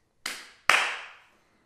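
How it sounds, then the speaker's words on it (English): Two sharp hand claps, a short pause apart, to trigger a Clapper lamp switch in a bedroom. The second clap is louder, and each rings briefly in the quiet room. "So I plugged my bedside lamp into the Clapper and, well, clapped twice."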